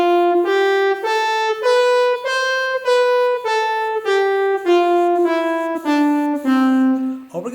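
A smooth electronic wind instrument plays a stepwise scale of even, connected notes, one after another, clear and alone.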